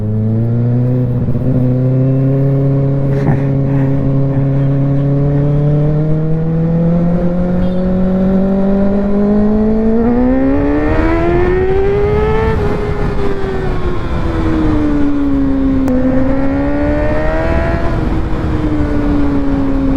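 A Kawasaki Ninja ZX6R superbike accelerates hard, its loud, close engine note climbing steadily in pitch, dipping briefly at gear changes and climbing again without pause.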